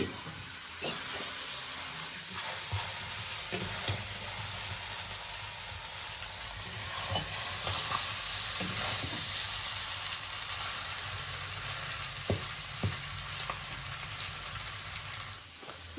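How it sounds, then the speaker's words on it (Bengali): Goat meat frying in a pan, a steady soft sizzle and hiss throughout with occasional faint clinks of stirring, fairly quiet and with no one speaking. "মাংস কষানো হয়ে গেছে"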